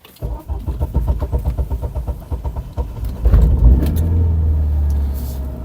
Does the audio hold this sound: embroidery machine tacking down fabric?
no